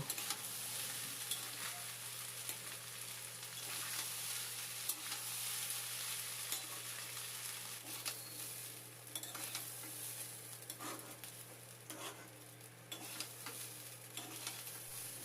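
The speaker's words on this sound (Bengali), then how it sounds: "এখন ঘি আর তেলের মধ্যে চালটা ভালো করে ভেজে নেব" Rice frying in a mix of ghee and oil on a raised gas flame for pulao, stirred continuously. A steady close sizzle runs throughout with frequent scraping stir strokes and no voices.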